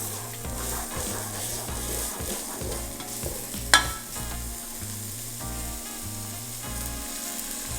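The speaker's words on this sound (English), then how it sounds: "We're gonna put our onions in there. I'm gonna saute this a bit." Onions sautéing in a pan give a steady, moderately quiet sizzle with a rhythmic stirring scrape throughout and one brief sharp clink partway through.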